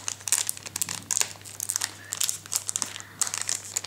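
Japanese PhantomGate trading card booster packs crackle and crinkle as the foil wrappers are handled and pulled open by hand, a close, busy run of sharp crumpling bursts with short pauses.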